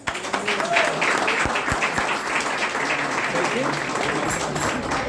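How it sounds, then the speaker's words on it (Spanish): A church congregation at a Sunday revival service bursts into applause, sustained clapping filling the room with a few louder claps and voices mixed in. "Denle un aplauso al Señor."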